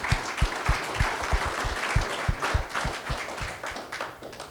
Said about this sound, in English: Give all three of these gentlemen a round of applause.